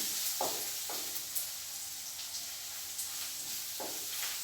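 Dried red chillies, ginger and garlic sizzle and fry in hot oil, a steady quiet hiss with occasional crackles and pops, no talking.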